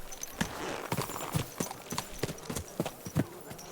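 Steady clip-clop of horse hooves at a walking pace in Kingdom Come: Deliverance II, regular evenly spaced thuds, moderately close, with faint background ambience.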